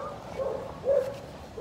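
A shelter dog gives a few short, whiny barks and yips at close range, spaced apart over a soft background.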